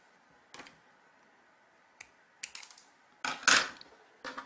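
Scissors snip through cotton cord at a slant, giving a few short, dry crisp cuts spread across the clip and ending in a louder, fuller snip, with quiet pauses between and no talk.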